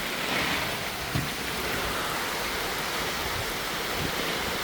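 Heavy rain pours in Sri Lanka during severe weather, a dense, steady roar of water with no letup, loud and close throughout.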